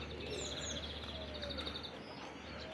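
Old-breed white pigeons: short, repeated chirping calls rise above a steady low rumble of background noise.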